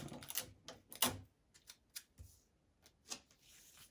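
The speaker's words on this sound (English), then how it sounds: "I'm going to go ahead and add tape to each corner." Tape pieces torn and pressed onto the corners of a home screen printing frame, a series of short crisp rips and rustles, close and fairly quiet, with gaps between them.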